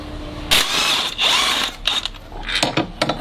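A ratchet works loose the crankshaft damper pulley on a Renault Megane K9K engine, giving close, loud bursts of mechanical clicking and whirring separated by short pauses, ending in quicker rattling strokes.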